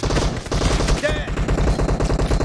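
Rapid automatic gunfire in the mobile battle royale game PUBG Mobile during a deathmatch, loud and close with a continuous rattling burst of shots and a voice briefly heard over it.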